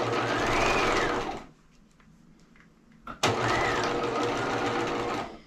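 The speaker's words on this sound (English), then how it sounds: "let's start stitching one shoulder seam" A sewing machine runs zigzag stitches along a shoulder seam of a doll bodysuit, whirring steadily for about a second and a half, pausing briefly, then starting again with a sharp click and running evenly to the end. No one speaks.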